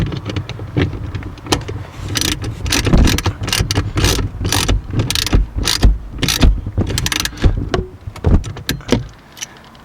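A ratchet tightens down a ground connection on a car during a 12-volt outlet and dashcam install, with rapid, uneven bursts of close metallic clicking and brief pauses between strokes.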